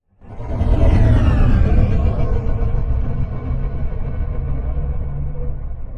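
A dense, sustained sci-fi spaceship drone: deep rumble under airy whooshing textures, swelling quickly and then holding steady and loud.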